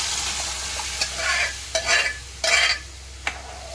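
Dal tipped into a hot tempering of cumin, mustard seeds and curry leaves for chakulya, giving a few bursts of sizzle and stirring over a steady low hum, with no voices.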